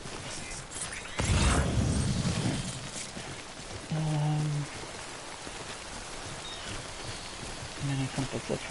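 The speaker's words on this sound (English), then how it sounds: "It is raining, so these boxes are gonna get destroyed at some point" Rain falling in the video game Death Stranding, a steady hiss of drops on surfaces with a louder burst near the start and brief tonal game sounds mixed in, beneath a voice talking.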